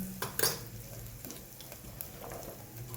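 Mustard seeds, cumin and asafoetida sizzle in hot oil in a home kitchen, a steady close crackle with a sharp spatter near the start, no talking.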